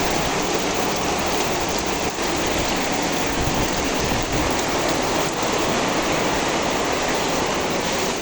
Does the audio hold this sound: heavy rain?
yes